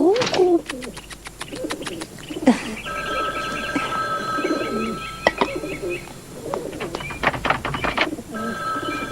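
Pigeons coo and flutter nearby while being fed, their calls soft and repeated amid clicks. An old telephone rings sharply at intervals, and a voice is briefly heard.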